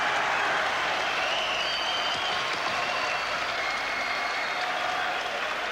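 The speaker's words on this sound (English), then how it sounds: "The end of the 10th round, with the crowd really getting excited and rising to that." Boxing crowd cheering and applauding at the end of the 10th round of a 1990 fight, a loud sustained roar of an excited arena audience.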